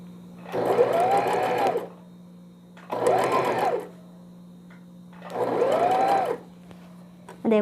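A sewing machine stitches the shoulder seam of a newborn vest in three separate runs of about a second each, its whirring motor rising and falling with each burst and a steady hum between.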